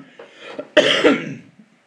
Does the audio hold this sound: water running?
no